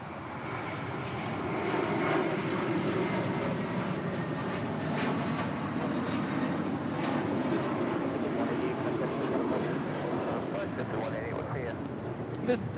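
A seven-year-old Airbus A321 departs LAX for Boston with a steady, rumbling jet roar at moderate distance that builds slightly and holds, with people talking faintly underneath.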